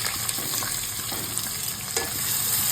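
Chopped onions hit hot white oil already tempered with dried red chilli, bay leaf and whole cumin, giving a steady close sizzle with light stirring scrapes throughout, no voices.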